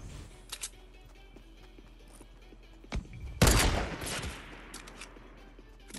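Gunfire in the Fortnite video game: a loud burst of shots hits midway, with scattered sharper cracks before and after over a constant game background hum.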